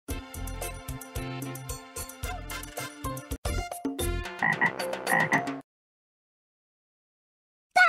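Frog croaking in the BBC Bitesize Animal Hospital game, a run of loud, rhythmic, buzzy croaks for about five seconds, then silence and one short tone at the end.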